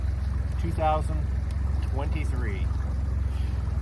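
A boat engine idles on Clear Lake, a steady low rumble running throughout with wind noise, while a person talks over it close by.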